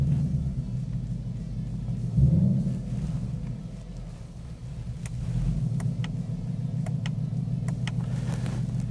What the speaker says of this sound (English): Now we'll do some driving with our Ford Racing by Borla Cat-Back.